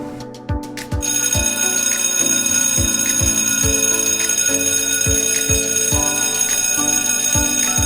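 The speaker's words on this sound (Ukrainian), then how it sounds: "Хай перший дзвоник переливом сповістить про початок нового навчального року." A school's first bell rings to open the new school year in Ukraine, a rapid series of about a dozen clear metallic strikes in a steady rhythm, loud and close with a long ringing tail after a brief quiet start.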